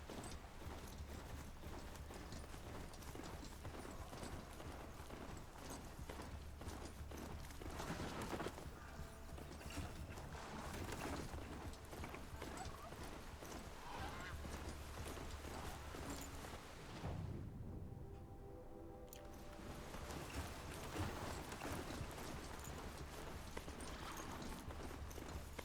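Horse hooves clip-clop steadily on the ground in the video game Horizon Zero Dawn, close and clear, with creaking tack and occasional mechanical sounds, running continuously alone without talk.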